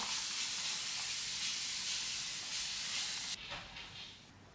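A spray bottle sprays water on a curly wig in a continuous hissing spray for several seconds, close and fairly loud, then it cuts off, leaving a softer fading hiss.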